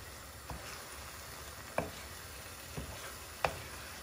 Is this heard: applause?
no